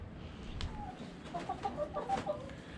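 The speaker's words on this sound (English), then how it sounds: "They're already eating and drinking and being little chickens." Young chicks peeping and softly clucking nearby, a quick run of faint high chirps over a low background hum, with no talking.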